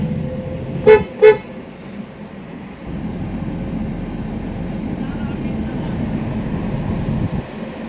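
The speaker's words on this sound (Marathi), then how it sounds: "तर गाईज, हॉर्नचा आवाज ऐका तुम्ही." A newly fitted car horn sounds two short, loud toots in quick succession near the start, followed by the steady hum of the car with the air conditioning running and someone talking.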